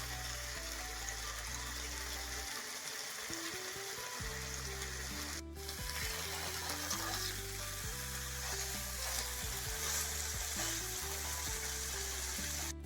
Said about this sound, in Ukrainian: це філе обжарюємо з кожної сторони до румяної скоринки